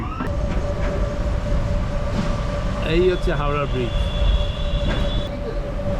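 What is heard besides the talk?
local train passing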